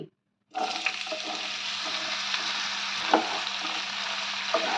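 Chopped bottle gourd drops into hot oil tempered with mustard and radhuni seeds and bursts into a loud, steady sizzle that carries on close by, with a few clinks of a spoon and no talking.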